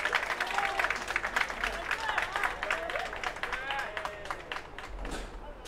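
Spectators applaud at a basketball game: brisk, continuous clapping with crowd murmur and lively voices mixed in, fairly close and holding steady throughout.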